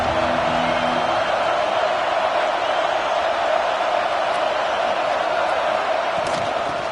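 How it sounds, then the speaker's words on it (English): A football stadium crowd roars steadily throughout, a broad and loud wash of voices with no breaks and no clear individual shouts. "This crowd ready to make its presence known."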